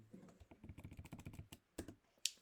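Keystrokes on a computer keyboard as Linux commands are typed, a quick run of close, crisp clicks followed by a louder single press of the Enter key near the end.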